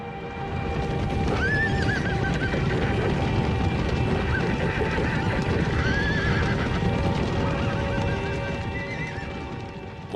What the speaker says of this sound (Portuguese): Muitos dos cavalos nunca foram selados.